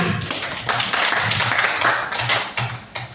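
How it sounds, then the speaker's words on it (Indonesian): A small audience at a teachers' training session clapping hands together, close and fairly loud, with uneven bursts of claps that fade into a few scattered final claps. "Tepuk tangan dulu untuk kita semua"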